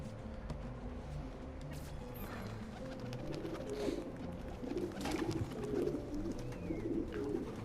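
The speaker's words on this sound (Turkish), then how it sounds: "Bu güvercinler nasıl acaba gideceği yeri biliyordu?" Pigeons coo softly and repeatedly in the video game Assassin's Creed II, low rolling calls over a busy ambient background with scattered clatters.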